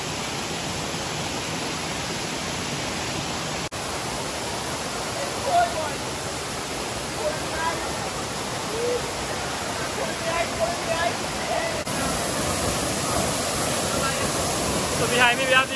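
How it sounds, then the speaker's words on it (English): Rushing water of the Madamas Double River Waterfall, running strongly, fills the scene as a steady broadband roar with wind across the microphone, continuous and fairly loud throughout. "behind me we have the infamous Madamas Double River Waterfall, which we love to come to. The water is actually really pumping today."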